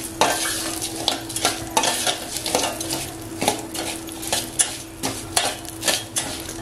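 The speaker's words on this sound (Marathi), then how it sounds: "तांदूळ आहेत ना तुपात मस्त असे ना छान असे भाजून घ्यायचे असे।" Rice grains being stirred and roasted in hot ghee over a low flame, rhythmic close scraping strokes of a spoon against the pan over a soft continuous sizzle.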